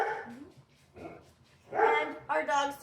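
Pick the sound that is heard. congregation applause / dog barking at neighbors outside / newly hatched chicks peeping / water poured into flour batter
dog barking at neighbors outside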